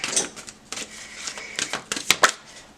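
Tarot cards are shuffled by hand, close up, in a run of crisp riffling bursts and flicks with short pauses between them; no one speaks.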